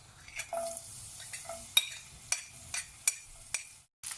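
Garlic fries in hot oil in a pan for a dal tadka, a soft background sizzle broken by sharp scrapes and clinks of a stirring spoon against the pan every half second or so, close and without talk.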